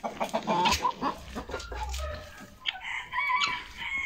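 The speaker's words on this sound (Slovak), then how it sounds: "Je to kohút." Rooster crowing near a hen flock, one strained crow followed by clucks and chatter from the fowl, close and moderately loud.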